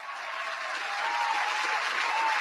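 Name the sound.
applause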